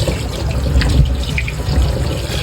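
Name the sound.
washing pork meat under running tap water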